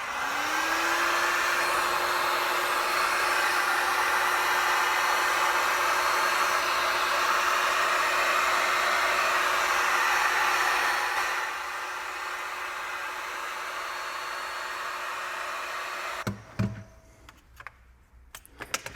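A heat gun blows a steady, loud whooshing hum onto a CME X-Key 25 keyboard case, running for about eleven seconds before easing to a quieter setting, then cutting off into a few light clicks and handling noises.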